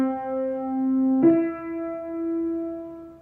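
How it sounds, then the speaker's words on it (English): Two sustained tones form a major third interval, the first note held and then a second pitch entering with a soft attack, clean and close in a quiet room. "But anyway, this is now the major third."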